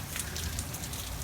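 Long-awaited rain falling steadily during a lightning storm at an alpaca farm B&B, a soft, even hiss of drops with faint patter, no one speaking over it.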